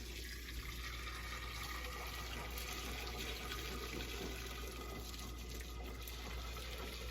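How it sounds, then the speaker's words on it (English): Ramen soup is poured from a pot through a cheesecloth strainer into a sink, making a steady, faint rushing gush of liquid that runs unbroken for several seconds with no talking. "I'm going to take the pot and pour it all into there and strain all the stuff in there."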